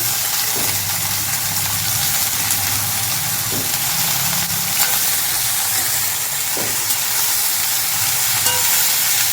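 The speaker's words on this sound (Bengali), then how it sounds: "একটু নুন হলুদ দিয়ে ভেজে নিই" Bitter gourd frying in a pan with salt and turmeric gives a steady, fairly loud sizzling hiss, with a low hum underneath and a few faint spatula clicks. No one speaks.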